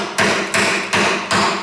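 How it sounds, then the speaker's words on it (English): Four sharp, evenly spaced metallic blows ring out as a hammer drives a chisel against the chassis of a split-window coupe being dismantled, close and loud with no talking. "I got my hammer and chisel right here"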